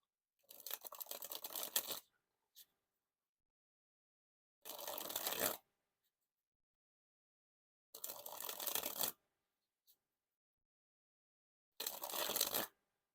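A deck of DeLand's Donut Shop playing cards dribbled from hand to hand in four separate bursts, each a fast, dense riffle of card edges lasting a second or so, with near silence and a faint tick between them.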